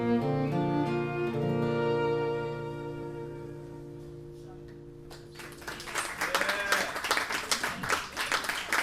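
Audience at The Saxon Pub breaking into applause after sustained held musical notes die away, clapping and cheers swelling loud and scattered in the room.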